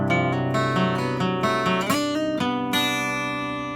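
Acoustic guitar plays a riff: a run of clear plucked notes with slides and hammer-ons, ending on a ringing sustained chord, close and alone.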